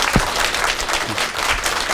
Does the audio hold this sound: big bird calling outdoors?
no